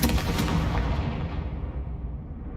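The Confringo fire-blast spell in the Hogwarts Legacy video game, a loud booming blast at the start that rumbles and decays over about two seconds.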